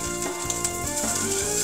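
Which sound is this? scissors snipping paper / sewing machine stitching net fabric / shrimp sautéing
shrimp sautéing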